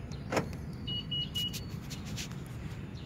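A used car, checked for signs of flood damage, being locked: a soft mechanical thunk followed by short repeated electronic beeps and whirring lock actuators, close by over a low engine-like rumble.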